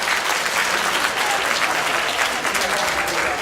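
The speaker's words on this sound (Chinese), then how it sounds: "先给我们所有的民歌手一个热烈的掌声" An indoor audience at an alumni gathering gives folk singers a warm round of applause, dense and sustained clapping from many hands at an even level throughout.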